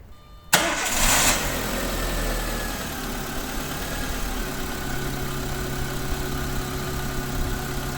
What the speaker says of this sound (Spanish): Y ahora vamos a arrancar el motor.